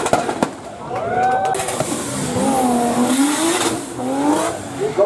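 A turbocharged Toyota Soarer drift car with a 2JZ engine and GTX35 turbo at a drift competition, its engine rising and falling in loud revs with sharp pops, while a commentator talks over it.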